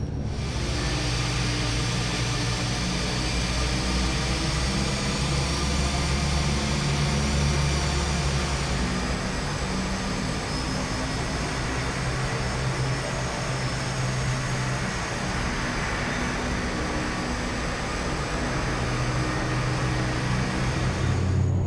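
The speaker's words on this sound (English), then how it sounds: "so you can hear the exterior engine sounds as well" Heard from outside, a Carenado S360 aircraft engine in Prepar3D hums steadily while taxiing, producing a constant droning tone with a layered mechanical whine that stays even and close for the whole stretch.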